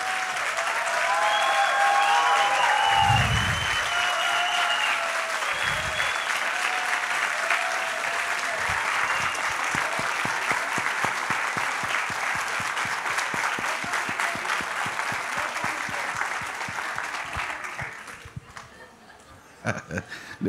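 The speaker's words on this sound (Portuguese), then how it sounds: "Olhem para a plateia, que eles estão batendo palma para vocês" An audience at a literary award ceremony gives sustained applause for the festival authors, dense and steady clapping that fills the room, with a few low voices and chatter under it before it fades out near the end.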